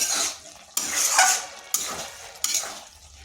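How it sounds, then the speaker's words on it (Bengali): A pumpkin and gobindobhog rice dish is stirred in a pot on the stove. Three sharp scraping stirs come close and distinct, each followed by a soft sizzle that fades off. No voices. "মাঝে মধ্যে ঢাকা তুলে এইভাবে নেড়ে দিচ্ছি না হয় নিচে লেগে যাবে"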